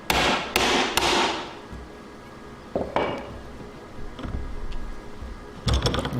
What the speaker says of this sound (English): Using a 1/2-inch chisel on this side.